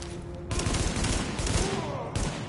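Dense bursts of rapid automatic gunfire from The Division fill a combat scene, loud and sustained with brief breaks between volleys.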